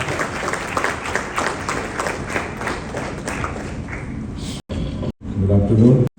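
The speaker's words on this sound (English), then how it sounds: "with a warm round of applause" An audience claps warmly to welcome chief guest Dr. Jitendra Singh at an AI for India event, a dense, fairly loud round of applause lasting several seconds before it breaks off into a short gap and a few closer sounds.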